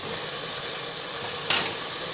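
Tomatoes hit a pan of frying onions and meat with a steady broadband sizzle and hiss, a brief burst as they land, close and continuous for about two seconds with no talking.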